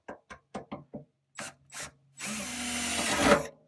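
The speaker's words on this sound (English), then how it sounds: "I just drill straight through." A power drill bores straight through the latch holes during a hatch latch installation. A run of sharp, close clicks comes first, then a loud drilling whine lasting about a second and a half, with no talk.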